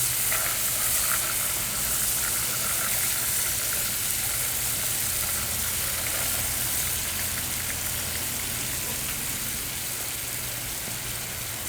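Uzbek plov sizzles loudly and steadily in the pot as chickpeas go in, a dense, unbroken frying hiss that stays level throughout.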